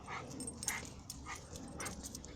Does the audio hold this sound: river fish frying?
no